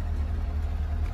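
A 2018 Camaro 2SS engine in track mode gives a brief, low, steady rumble, fairly faint and close, with no voices.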